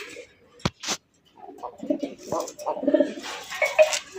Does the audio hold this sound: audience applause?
no